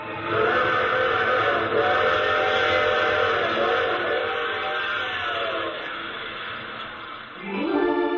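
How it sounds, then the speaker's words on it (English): A steam train in an old-time radio mystery drama rumbles loudly and steadily, with a long sustained whistle tone over the running noise before a brief dip and swell near the end. "I take this same train every week at this same time."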